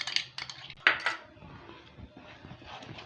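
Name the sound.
stirring mango kesari semolina in a pan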